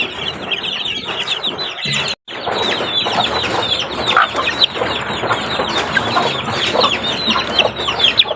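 Chickens and young chicks cluck and peep busily in a rainy backyard during feeding, a dense continuous chorus close by with wing flaps and one brief dropout, and no one talking.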